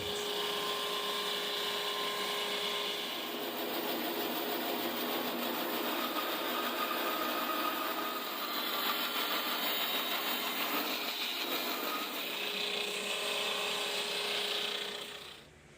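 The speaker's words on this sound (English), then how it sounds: "So we'll run it across our super saw and get it down to like 13, 16." A power saw cuts a thick wooden guitar neck blank for a Les Paul-style tribute build, giving a loud, continuous whining drone that holds steady for about fifteen seconds before cutting off.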